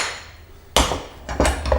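A slide hammer knocks sharply at the front fork bearings of a 1978 Yamaha XT 500 motorcycle under restoration, giving one hard metallic strike and then a couple of quicker follow-up blows, close and loud.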